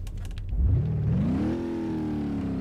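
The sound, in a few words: 7-liter V8 mod engine revving in BeamNG video game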